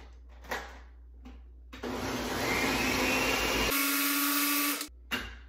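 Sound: Ninja blender blending a smoothie

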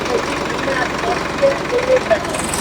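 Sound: tractor engine idling

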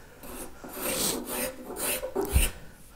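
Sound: scraping jagged surface of walnut wood with a scraper

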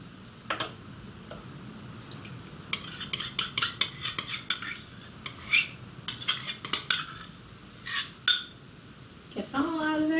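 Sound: stirring softened gelatin into fruit pulp and juice

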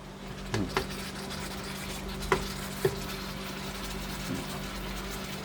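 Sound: pork sizzling and bubbling in a pan

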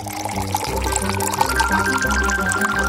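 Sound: liquid being poured into a container

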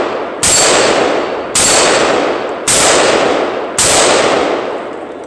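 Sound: gunshots hitting steel targets

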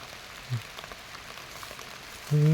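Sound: rain falling while picking mushrooms outdoors

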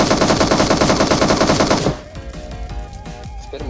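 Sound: machine gun fire in a video game

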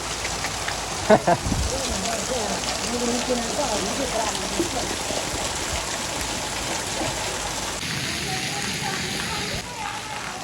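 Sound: heavy sudden rain pouring

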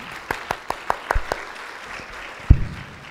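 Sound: audience clapping

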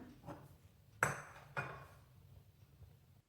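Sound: uruli cooking pot placed on the stove

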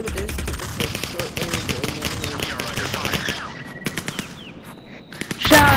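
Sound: shotgun gunfire in a video game

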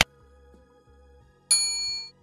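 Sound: notification bell ding sound effect

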